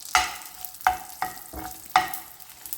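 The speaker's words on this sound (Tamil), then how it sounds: "இதை இப்போ அப்படியே பொரிய விட்டுடலாம்." Whole spices, including cardamom, chillies, shahi jeera and cloves, fry in ghee on a tawa while being stirred for Hyderabadi paneer masala, with four sharp scraping strokes over a steady close sizzle and no talk.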